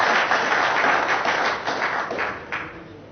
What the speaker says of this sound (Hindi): जोरदार ताली के साथ स्वागत अभिनंदन